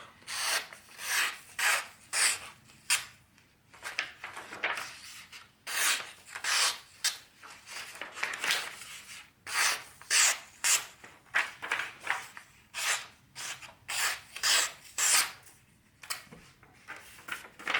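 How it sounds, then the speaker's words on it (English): A custom integral knife slicing through sheets of printing paper in repeated rasping strokes, close and crisp, with brief pauses between cuts. "We could also do some slicing of paper to test the sharpness of this one as well."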